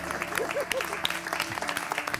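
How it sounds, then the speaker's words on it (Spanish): A studio audience on a Spanish-language talk show claps in scattered, uneven bursts, fairly faint beneath a voice talking and background music. "¡Un aplauso para él!"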